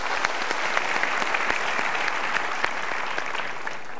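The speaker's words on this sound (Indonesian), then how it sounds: "kita berikan tepuk tangan untuk 3 teman kita ini" A studio audience at a motivational talk show applauds three guests, with dense, continuous clapping at a steady level from start to finish and no voices over it.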